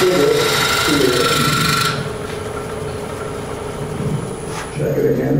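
A wood lathe spins steadily while a gouge cuts a spigot on the turning piece, a continuous rasping, scraping hum that eases off midway and picks up again toward the end.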